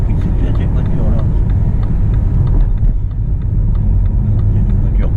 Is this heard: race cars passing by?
yes